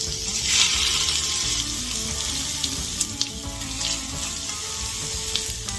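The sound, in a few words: bacon sizzling in a pan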